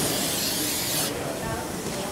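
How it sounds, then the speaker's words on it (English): A short, forceful spray of aerosol brake parts cleaner hisses close by for about a second on a 2012 Honda CR-V front brake, followed by a softer lingering hiss. "Spray a little brake parts cleaner where I touched it."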